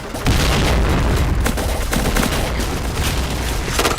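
Loud, continuous shooting-game gunfire fires headshots in rapid automatic bursts that barely pause, with booming impacts layered over one another at close range.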